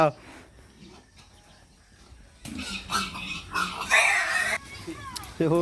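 A pig being caught oinks and grunts, growing louder and more agitated partway through, while people talk nearby.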